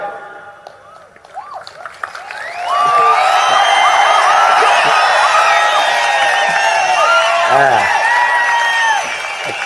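A large crowd at a Tamil political rally introducing candidates bursts into loud clapping, cheering and whistling. It starts after a few seconds of quieter noise, then holds as a dense, sustained roar that fades slightly at the end.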